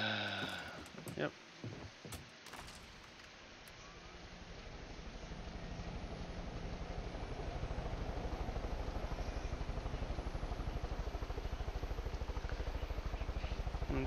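A helicopter in a video game whirs with a steady, loud rotor and engine drone that builds after a few seconds of clicks and brief noises, then holds constant to the end.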